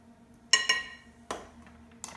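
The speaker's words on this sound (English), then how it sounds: "you just give that a good stir" Sheet pan gnocchi and vegetables stirred with olive oil, garlic salt and Italian seasoning, giving a few sharp metallic clinks and scrapes of a utensil against the pan over quiet kitchen background.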